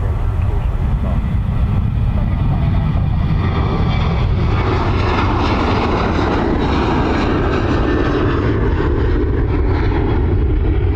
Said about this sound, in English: That rescue's coming back by the sounds of that.